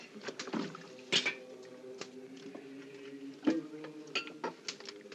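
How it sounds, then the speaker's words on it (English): Bottle of antiseptic opened in a 1950 war film medical scene: a few sharp clicks and knocks of a cap and glass, close and fairly quiet, with a steady low hum underneath and no talking. "open that bottle of antiseptic"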